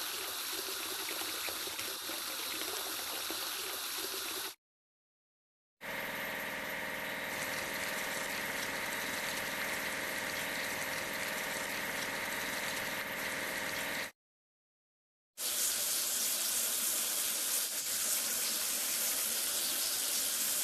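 Water spraying over a toy crane being washed in a cartoon vehicle game: a steady rushing hiss that runs in three long stretches, broken by two short silent gaps, with no talking.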